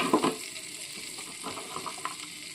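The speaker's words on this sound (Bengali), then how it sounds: "বাটারটা মেল্ট করে নিয়ে এর মধ্যে আমি পেঁয়াজ ক্যাপসিকাম একটু ভেজে নেব হালকাভাবে" Onion and capsicum fry lightly in melted butter in a pan for white sauce pasta, giving a soft continuous sizzle with a brief louder stir near the start, close but quiet.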